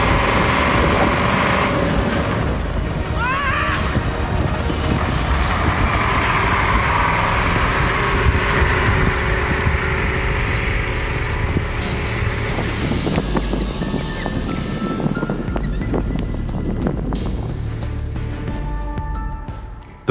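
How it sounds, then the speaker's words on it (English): An ATS-59 tracked tractor churns through mud and water while hauling a loaded truck with a trailer, its engine roaring loud and steady the whole time under constant splashing and track clatter, with no voices. "That ATS-59 just charged through like it was nothing."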